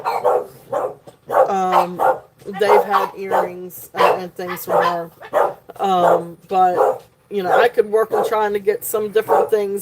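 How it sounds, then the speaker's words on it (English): Dogs bark in the background of a live indoor jewelry sale broadcast, heard as brief yips mostly masked beneath continuous close female speech. "excuse the dogs"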